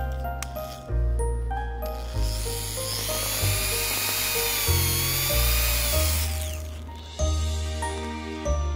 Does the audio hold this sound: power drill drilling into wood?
yes